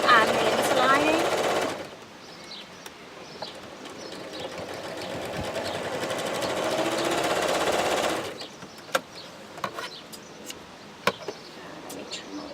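A sewing machine stitches a bulky seam through skirt pockets and interlining, a steady mechanical run from about two to eight seconds, then stops, leaving faint handling clicks and taps.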